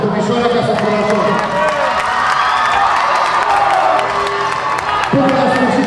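An audience at a teen festival stage show claps and cheers in a loud, continuous wash of applause and shouting, while a presenter talks over it.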